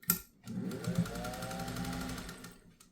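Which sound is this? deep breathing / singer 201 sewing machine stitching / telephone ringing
singer 201 sewing machine stitching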